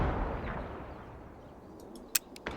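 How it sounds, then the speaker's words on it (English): A mortar fires in a multiplayer shooter video game: a deep booming blast fading away at the start, then quiet, followed by two sharp distant gunshot cracks near the end. "there's a mortar."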